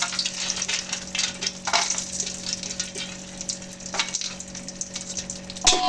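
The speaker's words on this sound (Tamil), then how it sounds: "நெய் ஊற்றி இது கூட இப்போது கேஷ்நட்டும் காஞ்ச கிரேப்ஸும் போட போகிறோம்" Cashews and raisins frying in hot ghee give a steady close sizzle with stirring scrapes, ending in a brief clatter, and no voices over it.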